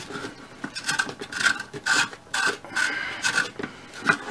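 A hand file rasps against a metal CAR-15 rifle part during fitting, making uneven back-and-forth strokes at close range and moderate volume, with no voices.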